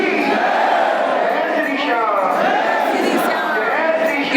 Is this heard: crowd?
yes